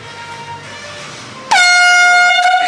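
Faint room noise gives way to a sudden, very loud, sustained air horn blast that sounds close and harsh and holds to the end.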